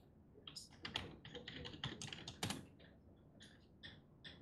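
Quick bursts of keystrokes on a computer keyboard, close and clear, tapping in irregular clusters with short pauses between runs, no talking.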